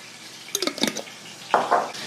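Marinara sauce poured from a container over crispy breaded chicken in a skillet, giving a few soft wet splats and slops, close and fairly quiet, alone.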